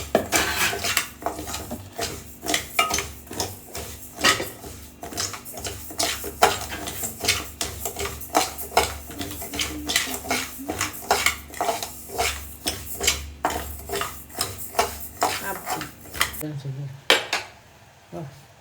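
Rice dry-roasts in a pan for rice laddu, with a busy run of metallic scraping and clinking from a ladle against the pan that goes on almost without pause and then stops near the end.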